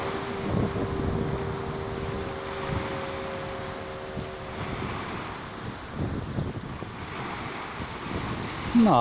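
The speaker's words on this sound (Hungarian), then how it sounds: "Van jókora hullámverések vannak." Wind-driven waves roll and slosh along the shore of Lake Balaton, a continuous rough wash with gusts of wind buffeting the microphone throughout.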